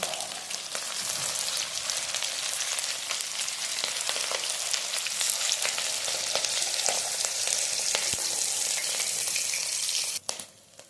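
Potato pakoras made with rice flour fry in hot oil, giving a loud, continuous, crackling sizzle with scattered pops that runs for about ten seconds before easing off sharply, with no talking.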